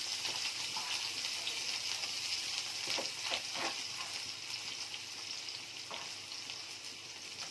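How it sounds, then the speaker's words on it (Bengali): Onion sizzles in hot oil in a pan, a soft, continuous crackling hiss with a few brief louder pops from stirring, heard alone and fairly quiet. "তেল গরম হয়ে গেছে তেলের মধ্যে একটু পেঁয়াজটা দিয়ে দিই"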